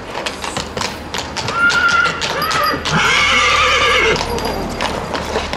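A large stallion at a 2019 horse showing in Cristian, Sibiu, neighs loudly in drawn-out whinnies while its hooves stamp and clop nearby, with brief voices in the background.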